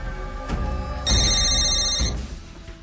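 A mobile phone ringtone plays loudly and clearly, a bright repeating electronic melody that swells in the middle and then trails off, with no talking.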